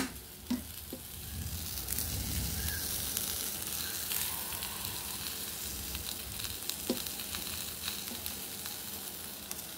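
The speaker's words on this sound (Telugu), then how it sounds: "ఇప్పుడు దీనిపైన మనం ఆల్రెడీ బటర్ పెడుతున్నాం కదండి, కొంచెము గ్రీస్ చేద్దాము" Butter sizzles on a hot pan while greasing it for a chicken roti burger, a close, continuous frying hiss with light spatters and occasional clicks of a utensil.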